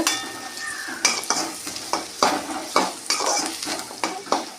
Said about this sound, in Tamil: இப்போ இதெல்லாம் சேர்ந்து நல்லா வதங்கிட்டோம்